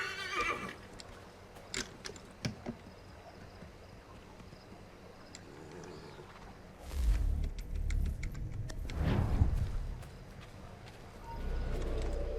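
A horse in Assassin's Creed III whinnies a couple of times over hoof clip-clops and background game sounds, with clicking noises scattered throughout.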